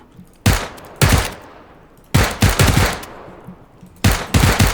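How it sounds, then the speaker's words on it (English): Gunfire in PlayerUnknown's Battlegrounds: four loud automatic bursts of rapid shots close by, separated by short gaps, with no talk over them. "they're shooting at me now"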